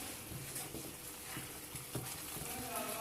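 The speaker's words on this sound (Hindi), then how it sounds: "बस ये देखें जी मैदे को थोड़ा सा इसी में भून लेंगे हम" Flour roasting in a pan for chicken roll filling, a soft, steady sizzle with faint stirring scrapes, close and moderately quiet throughout.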